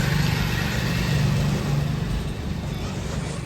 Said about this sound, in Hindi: लेके आया गाड़ी